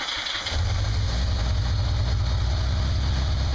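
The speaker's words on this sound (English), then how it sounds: "start the bike up" A Yamaha XJ550 motorcycle engine, running a little rich, cranks briefly then catches and settles into a steady, close, loud low idle with no talking.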